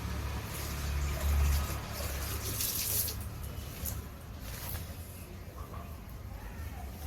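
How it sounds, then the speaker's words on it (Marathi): Leaves being rinsed clean under a running tap while preparing for a Margashirsha Thursday devi puja at home, a steady close wash of splashing water flowing throughout with no voices. "स्वच्छ धुवून घेतली पानं"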